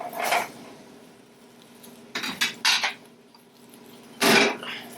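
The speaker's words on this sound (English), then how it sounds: "we want to stir this around and incorporate this as well" A utensil stirs curry, ground cumin, sugar and red pepper flakes into tomato sauce in a pan, giving a few close clinks and scrapes of metal on cookware in short bursts separated by quiet gaps.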